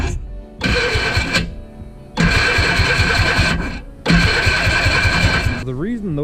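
A cheap $100 quad's engine is cranked with a booster in three loud, close grinding bursts separated by short pauses, with a wavering tone at the end.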